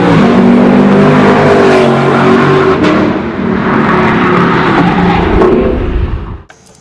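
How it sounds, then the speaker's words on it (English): A Lexus LC 500 sports car, Tarantula Edition, with its engine running loud and steady in a throaty roar that swells and holds for several seconds before cutting off abruptly at the end. "When you start the LC500"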